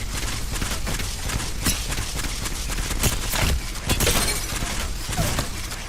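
An Apex Legends gun firing in rapid, continuous bursts, close and loud with a crackling, dense rhythm that barely pauses, no voices over it.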